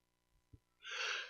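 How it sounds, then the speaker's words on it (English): A single person's sneeze, a couple of soft breathy intakes followed by one sharp, hissy burst, close and fairly quiet, during a live video game commentary session. "Yeah, I had to sneeze."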